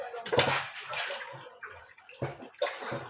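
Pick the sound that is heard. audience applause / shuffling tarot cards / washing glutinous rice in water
washing glutinous rice in water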